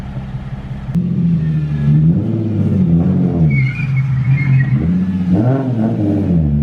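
A Nissan Z drift car revs loudly and steadily through a tight U-turn at close range, the engine note rising and falling, with brief speech over it.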